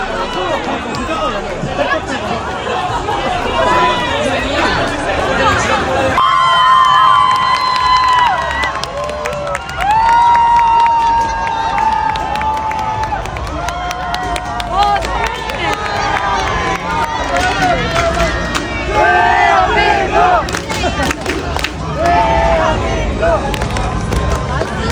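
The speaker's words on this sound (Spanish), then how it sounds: "de razón toda la gente gritaba por todos los lugares" A street crowd in Seoul shouting and cheering, a loud, dense roar of many voices with whoops and calls rising and falling throughout, close and continuous.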